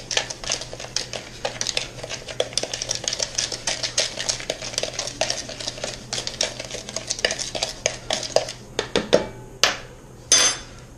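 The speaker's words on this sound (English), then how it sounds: "And then we're going to mix that dry." Dry spices and onion powder being mixed in a bowl, a rapid run of scraping, clinking stirs against the container, ending with a few separate taps and knocks.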